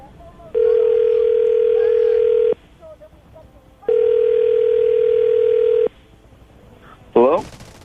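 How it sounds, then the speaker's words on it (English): A telephone ringback tone sounds loud and steady in two long two-second bursts separated by a pause while a call is placed, followed by a brief warbling electronic blip at the end. "I'm going to call him right now, get him on the phone"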